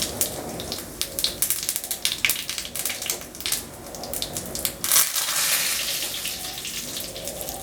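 Mustard seeds crackle and pop in hot ghee, a dense run of sharp spits and splutters that carries on steadily without any voices.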